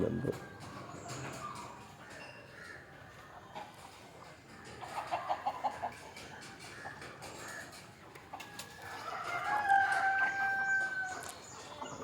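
Hens cluck and murmur steadily at a distance, with a rooster crowing partway through, in an outdoor yard with faint background voices.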